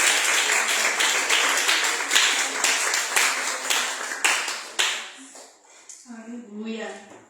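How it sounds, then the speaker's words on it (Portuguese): A church congregation applauds loudly and steadily for about five seconds, the dense clapping then thinning and fading as a voice begins speaking. "Aplauda o Senhor"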